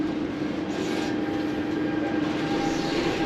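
A Shanghai metro train rumbles along steadily with a constant droning hum and rattle, continuous and fairly loud, with no voices.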